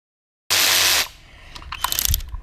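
A hand ratchet works on the bolts of a Hyundai i20 tappet cover, giving a loud broadband burst followed by quieter, rapid clicking of the pawl up close with no talking.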